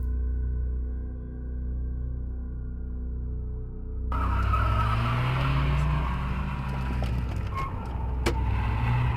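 A car swings through a quick U-turn, engine droning at first before a sudden burst of tire skidding and rising engine noise, loud and close with no talking.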